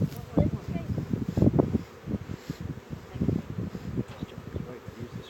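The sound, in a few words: honey bees buzzing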